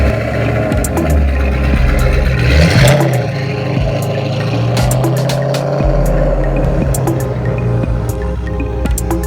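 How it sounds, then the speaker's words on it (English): A Ford Mustang GT500 convertible runs on a dynamometer, its engine droning steadily with rises in revs and a surge around the third second, loud and continuous with scattered mechanical clicks over the roar. "We got a Gt500 going on a dyno."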